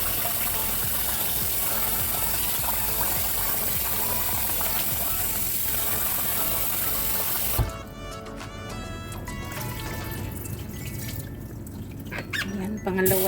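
Frikeh grains being rinsed and swished in a bowl of water for Lebanese frikeh, a steady wet sloshing and gushing that runs close and continuous, then drops to softer splashes and trickles midway.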